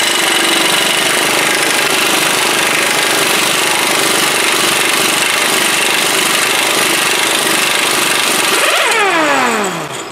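An air impact tool hammers loudly and continuously on a steering knuckle bolt of a Ford Edge, a harsh rapid rattle at close range that ends with a brief falling whine as the tool stops.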